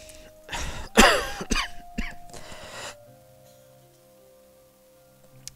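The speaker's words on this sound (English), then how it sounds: "I'm actually really coughing, that's really weird." A person coughs several times in quick succession, close and fairly loud, the fits tapering off into quiet room noise.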